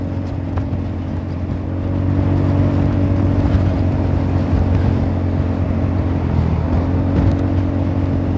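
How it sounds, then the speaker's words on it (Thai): A Honda Forza 350 scooter engine with oddly behaving revs drones loudly and close, then swells at about two seconds into a sustained higher, steady roar with a deep rumbling undertone; no voices. "นี่มาแล้วฟอร์ซ่า"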